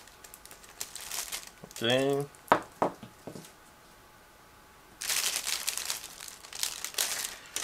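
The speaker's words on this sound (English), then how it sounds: "so I need to cut through the plastic bag again" Crinkly plastic rustles and crackles in bursts as a plastic model kit bag is cut open and handled, with a brief spoken word between the bursts.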